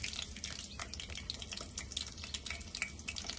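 Chilies go into hot oil in a pan, crackling and sizzling in a dense, continuous spatter of small pops, close and fairly quiet, with no voices.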